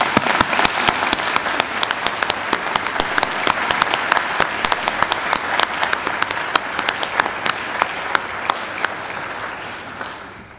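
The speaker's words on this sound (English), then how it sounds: "please join me in giving them a round of applause." Sustained applause from a large audience at a university graduation ceremony, dense steady clapping that fills the whole stretch and tapers slightly toward the end.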